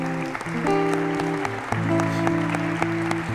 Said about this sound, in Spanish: Denle una ofrenda de palmas al Espíritu de Dios